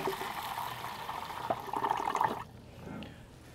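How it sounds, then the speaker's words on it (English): Water rushes and splashes steadily into a container of prawns for rinsing for a couple of seconds, then cuts off, leaving a quieter trickle and faint room noise. "So basically just chuck water in."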